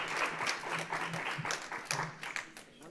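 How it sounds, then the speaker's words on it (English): Steady applause from an audience at a culinary historians' talk, a continuous wash of many hands clapping at moderate volume with no voices standing out. "can we get another round of applause"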